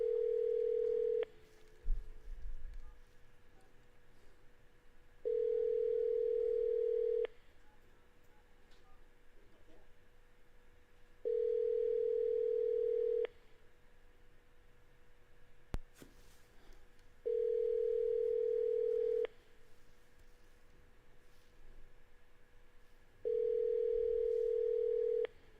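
Steady telephone dial tone sounds in five evenly spaced bursts of about two seconds each, separated by quieter stretches of low room noise.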